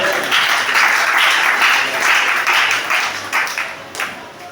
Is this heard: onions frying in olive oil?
no